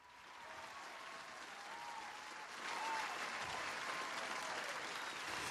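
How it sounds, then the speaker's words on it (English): An audience applauds with steady, dense clapping that swells slightly partway through and carries on to the end, heard at a moderate distance. "Round of applause."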